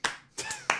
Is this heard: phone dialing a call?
no